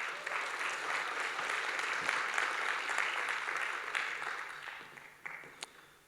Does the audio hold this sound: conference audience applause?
yes